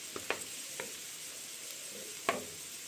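Carrot and onions sauté over chicken drumsticks in a pot for pilaf, with a steady soft sizzle and a few sharp scrapes and clicks of stirring.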